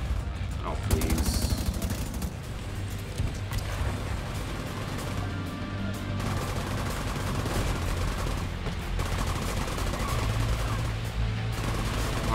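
Dense, sustained gunfire from The Division 2, with rapid bursts and weapon shots continuing throughout, mixed with game effects and a voice talking over the action.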